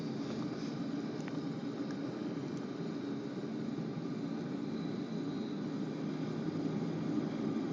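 Steady broadband rotor and turbine roar of a helicopter lifting off, constant and fairly distant with no talking.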